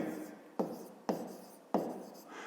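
Pen or pencil writing out a first-step subtraction for a fifth-grade Ukrainian math exercise, with soft scratchy strokes broken by three sharp taps as the pen lands on paper, close and quiet with no talk.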